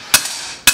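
A 2-pound Harbor Freight hammer strikes twice while forging a blade, each blow a sharp, loud metallic impact with a brief ring, spaced about half a second apart.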